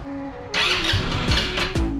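An Easyride 150N motorcycle with a hard-starting problem cranks and catches, a short idle hum giving way to bursts of revving engine with uneven surges, close and fairly loud.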